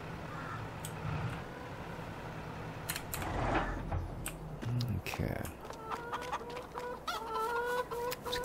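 Chickens in the video game Farming Simulator 22 cluck repeatedly in short, uneven bursts near and at moderate volume, mixed with some clatter and game sounds, while someone talks over them.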